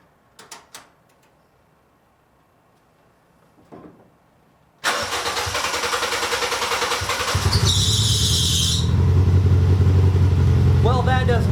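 After a few clicks and a quiet pause, a Toyota 1ZZ engine in a Yaris track car cranks and catches, then runs loud with an uneven, sputtering roughness, plus a brief high squeal.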